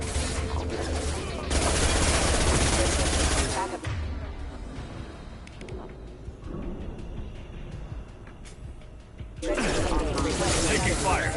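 Sustained bursts of automatic gunfire and battle sounds from the Mass Effect 2 video game, loud and dense at the start and again at the end, with quieter combat noise in between and voices calling out over it.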